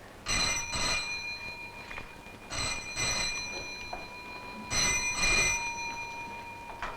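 An old telephone bell rings for a trunk call in three separate bursts of rapid double trills, loud and close, with quiet pauses between them.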